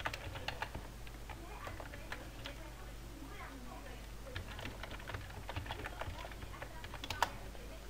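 Light, rapid clicking of typing on a computer keyboard while working in a website admin panel, a steady run of close, quiet taps over a low hum, with faint talk in the background.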